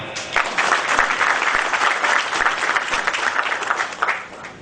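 Audience applause at a media company meeting in Goa, a thick continuous round of clapping that starts abruptly, stays loud for about four seconds, then tails off.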